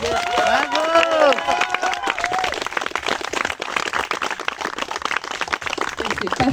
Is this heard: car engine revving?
no